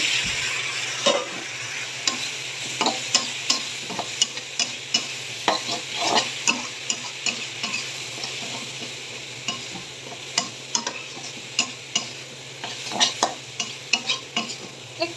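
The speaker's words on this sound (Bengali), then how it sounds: "ভাজা ভাজা করে নেব" Dried fish frying in a pan with chili powder and onion leaves, stirred steadily: close, continuous sizzle broken by repeated scraping strokes of the spatula throughout.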